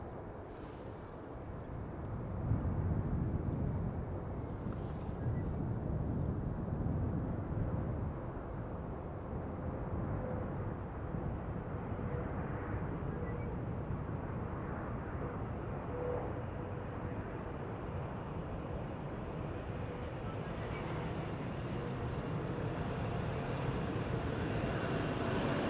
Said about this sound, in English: Stupid airplanes on Polderbaan, getting in the way.